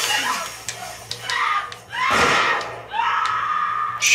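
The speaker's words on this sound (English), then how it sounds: "if you do shoot them when they're on the ground screaming, they do, in fact, stop screaming" Enemy soldier in The Last of Us Part II screaming after being shot and downed, harsh broadband cries in several bursts with a long loud scream near the middle and another toward the end, over low game ambience.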